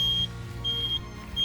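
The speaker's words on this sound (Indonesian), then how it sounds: "ini sennya bunyi karena di sini bagian sini itu di dalam saya pasangi buzzer supaya nggak lupa" An added turn-signal buzzer on a 2019 Yamaha Freego S scooter beeps in a steady on-off rhythm, three high-pitched tones spaced evenly, heard close over a low idling hum.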